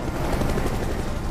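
Helicopter in the Resident Evil 6 video game, from the final chapter of Ada's campaign: a dense, steady rotor-and-engine roar that fills the short stretch at an even, loud level with no talk.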